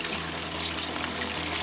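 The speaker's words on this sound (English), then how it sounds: "This is just a garden hose, so it's not spraying too fast" Water spraying from a garden hose in a continuous soft hiss and splash, steady and moderately close, with no other sounds.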